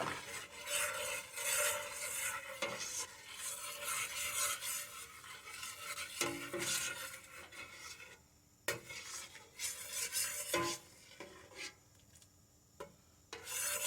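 A spoon scrapes and stirs across a hot pan as wine deglazes it for a fish and corn chowder, a steady close rasping with a faint sizzle and occasional sharper knocks against the pan.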